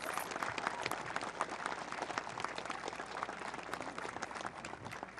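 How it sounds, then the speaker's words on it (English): Audience applause at the U.S. Route 35 ribbon cutting ceremony, a steady wash of many hands clapping that holds for the whole stretch at moderate, slightly distant level. "please give them a monstrous round of applause."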